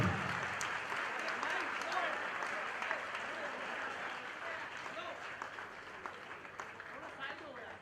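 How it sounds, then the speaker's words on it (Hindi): Applause from a crowd welcoming Chief Minister Pushkar Singh Dhami at a school event in Sagar, steady and sustained throughout, with voices mixed in. "जब तक सर यहाँ नहीं आ जाते उससे जोरदार तालियां बजती रहे सर के लिए"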